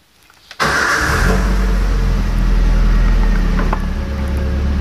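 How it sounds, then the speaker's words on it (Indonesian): A 2005 Toyota Avanza engine cranks briefly and catches, then settles into a loud, steady idle heard up close, after a quiet moment at the start. "Kita nyalakan dulu mesinnya."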